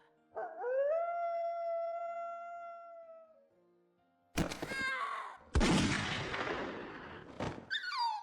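A grey wolf howls in a mountain forest, one long sustained tone, followed by sudden loud crashing bursts and a brief yelp.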